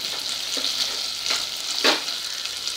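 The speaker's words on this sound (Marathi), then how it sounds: "हळद छान अशी रंग येईपर्यंत आपल्याला याच्यात परतून घ्यायची आहे." Turmeric being stir-fried on very low heat for a Gujarati kokum dal, giving a steady soft sizzle with a few brief scraping stirs, close and alone.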